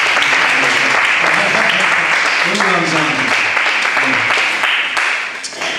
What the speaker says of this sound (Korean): 우리 하나님께 다시 박수